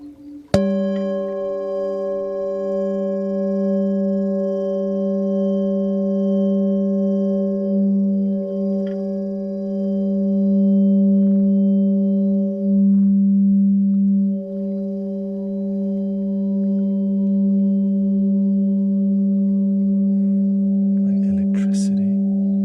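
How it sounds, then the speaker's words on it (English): A throat chakra singing bowl rings with a sustained, steady harmonic drone, its layered overtones holding evenly for over twenty seconds, close and loud, with a faint tap or rustle near the end. "This is a throat chakra bowl,"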